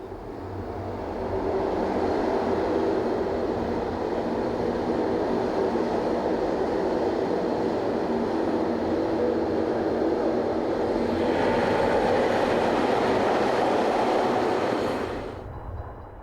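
Freight locomotives 6494 and 6497 haul empty coal wagons toward Maaslachte Yard, a loud, continuous rail rumble that swells in, rolls steadily past for over ten seconds, then cuts away sharply, with no voices.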